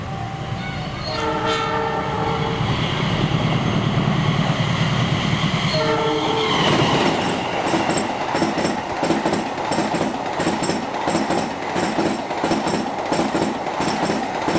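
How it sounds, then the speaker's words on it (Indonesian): The Argo Lawu 7 train, running from Solo Balapan to Jakarta Gambir, sounds two long horn blasts as it approaches, then passes close by with loud, rhythmic wheel clatter that continues to the end. "sudah melintas kereta api Argo Laut 7 dari stasiun Solo Balapan tujuan stasiun Jakarta Gambir"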